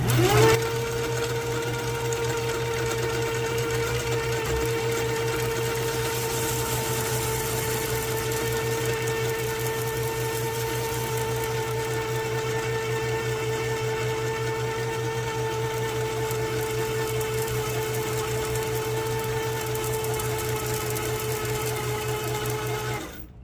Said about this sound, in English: that's 200 yards of braid, and as you can tell, I'm going pretty quick, but look how smooth it's laying out